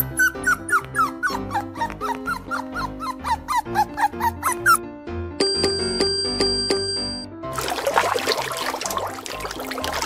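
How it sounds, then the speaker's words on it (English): A cartoon dog gives a rapid series of short, high yips, followed by bright ringing bell-like tones and then a hissing, splashy burst. "Dog."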